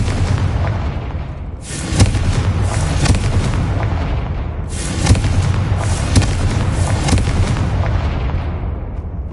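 Confringo, the fire-blast spell in Hogwarts Legacy, erupts in booming explosive bursts that strike twice within a few seconds over a dense, continuous rumble of battle noise, loud and close.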